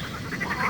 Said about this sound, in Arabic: ثم أخذت كل واحدة تنقنق بأعلى صوتها